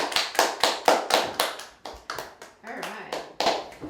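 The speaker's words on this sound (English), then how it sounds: "I think we deserve a round of applause." A small group claps in a brief round of applause, loose uneven hand claps close by over a few seconds.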